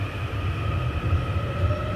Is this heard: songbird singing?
no